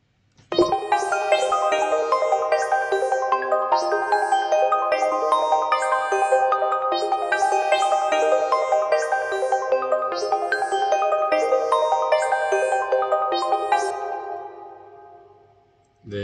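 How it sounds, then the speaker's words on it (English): A sitar-style synth voice from the Purity plugin in FL Studio plays a repeating plucked melodic phrase with bright, twangy attacks, continuous and fairly loud for about fourteen seconds before fading, no voices present. "Then I've got the sitar sound from Purity."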